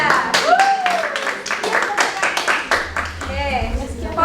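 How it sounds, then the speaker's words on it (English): A classroom of students claps in applause for a classmate's correct answer, a dense burst of hand claps mixed with voices and a teacher speaking over it. "give applause to Leskia."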